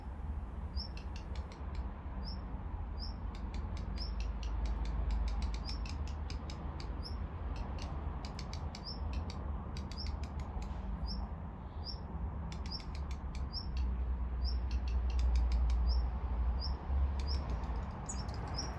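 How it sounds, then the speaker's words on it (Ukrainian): Rapid, high-pitched chirps from a tiny baby bird inside a meter box repeat steadily throughout over a low background hum. "чує, як вона гукає, цвірінькає"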